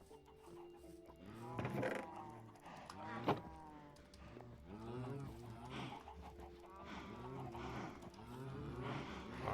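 Minecraft cows give a run of low, drawn-out moos in several overlapping calls, moderately close and fairly soft, with a faint background hum and a brief sharp click partway through.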